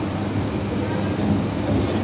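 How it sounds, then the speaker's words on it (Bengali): A Kolkata Circular Rail local train runs between Majerhat and Burrabazar, giving a steady, close rumble from inside the carriage with no clear breaks. "ইতিমধ্যে কিন্তু আমাদের ট্রেন ছেড়ে দিয়েছে"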